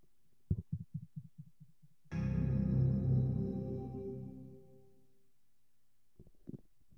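Sound effect from the Mac game Big Bang Board Games: a series of soft, low pulsing thumps, then a loud sustained tonal burst that slowly fades with echo, followed by more quiet thumps.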